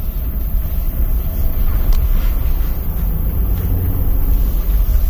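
A Jeep Wrangler JL with the 3.6 liter engine and 8-speed automatic drives on a regular road in two-wheel drive, giving a loud, constant low rumble of engine and road noise with wind buffeting the microphone.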